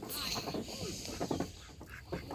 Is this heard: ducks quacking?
yes